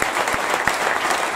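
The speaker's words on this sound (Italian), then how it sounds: "fatemi un applauso" Crowd applause at a Matteo Salvini political rally in Pollenza, Italy: steady, dense clapping from a large outdoor audience, moderately loud and continuous throughout the short burst.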